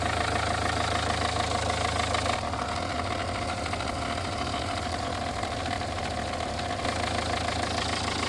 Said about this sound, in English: You can hear the engine is working really well